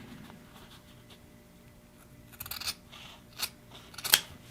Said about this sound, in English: So first one, I'm just going to cut straight up the middle.